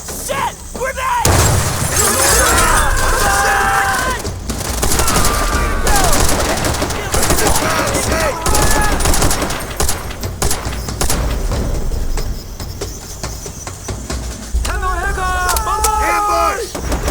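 Explosions and rapid gunfire from the World War II shooter game World at War crash loudly through a battlefield ambush, with shouting voices and bursts of music mixed in throughout.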